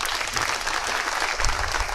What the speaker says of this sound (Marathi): जरा जोरदार टाळ्या वाजवा.